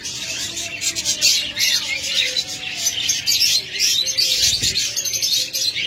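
Pet budgerigars, cockatiels and lovebirds, including a rainbow pair, kept together at a bird sale, chirp and twitter continuously in a dense, close chorus with steady busy energy throughout.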